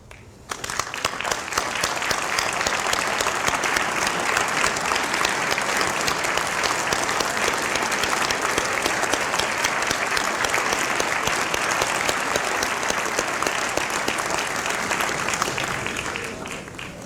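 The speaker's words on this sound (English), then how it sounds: "stand so that we can have a round of applause for you." A standing audience applauds at a dental medicine school commencement, long continuous clapping from a big crowd that rises quickly, holds steady and loud for many seconds, then tapers at the close.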